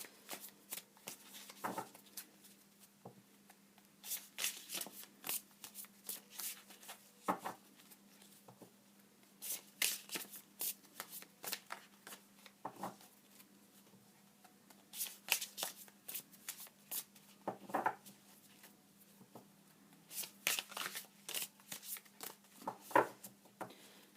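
Tarot cards being shuffled in repeated bursts of crisp riffling and slapping, moderately close, with short pauses between bursts and no talking.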